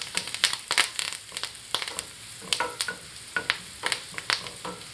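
Curry leaves and turmeric powder fry in a pan for a quail egg roast, giving sharp crackling bursts and spits in an uneven rhythm over a soft sizzle.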